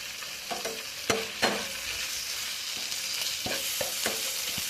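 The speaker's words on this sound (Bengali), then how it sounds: "এবারে দেব 1 চামচি আদা বাটা, দেব কাঁচা লঙ্কা বাটা 1 চামচি" Ginger paste and green chilli paste frying in a hot pan, a steady close sizzle broken by several sharp scrapes and taps of a stirring spoon, no one speaking.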